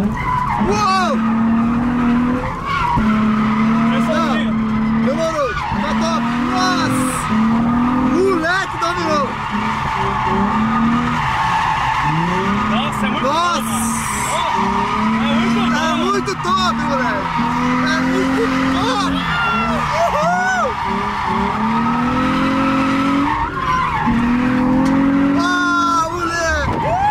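Nissan 350Z drifting, with loud, continuous tire squeal in long screeching bursts over a roaring engine throughout, and people talking and exclaiming over it.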